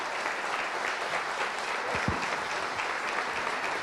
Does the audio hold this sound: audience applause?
yes